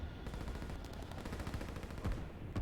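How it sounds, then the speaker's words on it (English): A rocket strike explodes in the real-time strategy game Line War, heard as a dense, continuous burst of gunfire-like cracks and booms, loud and close with no talking. "That was a really good hit with the rocket."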